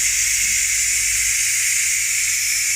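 Steam hisses steadily and loudly from the vent of a pressure cooker holding beef brisket, a continuous bright rush with no break.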